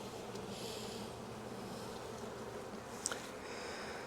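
Honeybees hum in a dense, steady drone during the inspection of a five-frame nuc hive in Jacksonville, Florida, close and continuous, with a few individual bees whining past and a brief faint tap.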